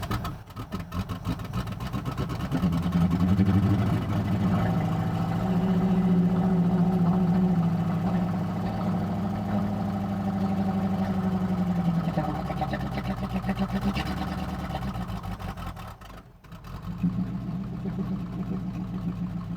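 A 1950 Buick engine, revived after 55 years, starts and settles into a smooth, steady idle with a deep continuous rumble, heard up close with only a slight dip near the end.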